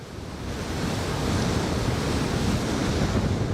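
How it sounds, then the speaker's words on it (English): Steady, roaring wind buffets the microphone while riding at about 28 miles per hour into a strong headwind, a dense rushing noise that builds slightly and holds constant. "Got a lot of headwind, I can tell you that."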